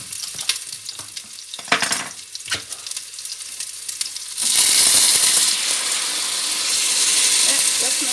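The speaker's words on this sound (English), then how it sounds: "I'm gonna put the tomatoes in." Tomatoes drop into a hot pan for peanut butter sauce and break into a loud, steady sizzle that keeps going, with scraping and stirring noises before it.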